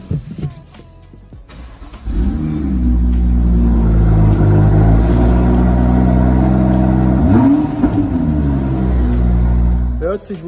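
A used car's engine starts nearby, then idles with a deep steady rumble and one or two brief revs before shutting off, with a few words of talk around it.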